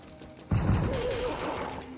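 A single loud gunshot blast from the LEGO Fortnite Odyssey video game hits abruptly, then tails off into a lingering rumble with a faint wavering tone.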